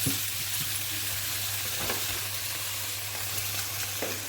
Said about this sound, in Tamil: இப்போ தக்காளி ஒரு சின்ன சைஸ் தக்காளி போட்டுக்கலாங்க அதோட இந்த அளவுக்கு புளி போட்டு இதையும் நல்லா வணக்கிக்கலாம்